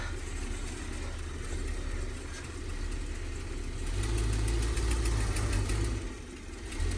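The engine of a Winnebago Brave motorhome that refuses to work properly idles steadily up close, its low rumble swelling deeper partway through before easing back.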